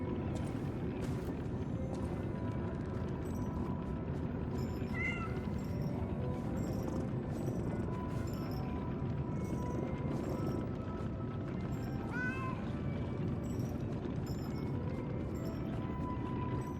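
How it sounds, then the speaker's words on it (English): Cat meows from the video game Lies of P, a few short mewing calls near 5 and 12 seconds over a steady ambient in-game background hum. "Having a cute interaction with the kitty before continuing through the mine."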